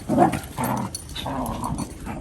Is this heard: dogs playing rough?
yes